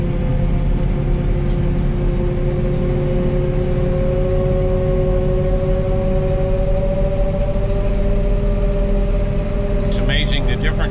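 A corn silage harvester's engine drones steadily at close range, a constant loud mechanical hum with harmonic whine that holds even throughout, ending with a brief clatter.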